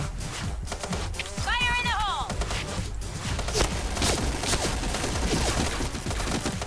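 Gunfire from the G11 rifle in the Point Blank shooting video game, fired in rapid bursts of closely spaced shots over a continuous busy game background, with a brief tonal in-game effect partway through.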